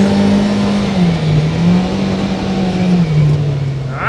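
A 2024 Kawasaki Ridge XR side-by-side with a CVT, floored at full throttle in sport mode and high-range four-wheel drive, its engine droning loudly and steadily as it pulls, pitch wavering slightly, heard up close from the cab.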